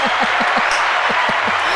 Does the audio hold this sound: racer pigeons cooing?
no